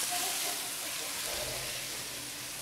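Meat searing in a pan of oil while preparing Korean japchae, a steady broadband hiss and sizzle that runs continuously at moderate loudness with no talk over it.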